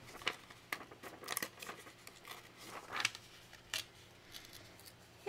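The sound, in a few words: ripping out transparent washi tape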